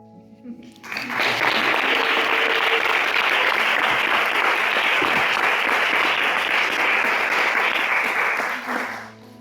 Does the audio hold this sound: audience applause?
yes